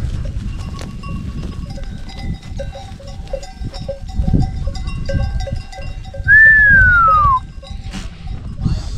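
Goats and young kids bleat around a rural farmhouse at dusk as they are gathered in for the night. Scattered cries rise over a steady outdoor murmur, with one clear whistle-like call midway.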